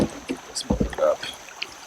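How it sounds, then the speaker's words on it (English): A kayak paddle dips and splashes in a few soft, brief strokes through a chilly Alabama creek, near and faint, with a voice speaking in between. "Maybe I can paddle through this."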